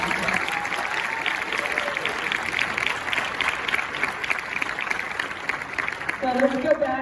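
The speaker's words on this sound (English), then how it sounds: "so can I have a round of applause for you?" High school assembly audience applauds a student speaker, a steady rattle of many hands clapping in a large room, with scattered voices and cheers mingled in and a voice starting to talk near the end.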